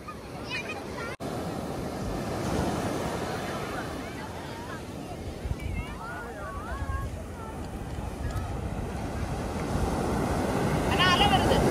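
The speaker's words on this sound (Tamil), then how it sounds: "பயங்கரமா அலடிக்க ஆரம்பிச்சிச்சு." Sea waves surge and break continuously on the beach at Kanyakumari on an evening, a steady roaring wash with wind buffeting the microphone, while faint voices carry in the background.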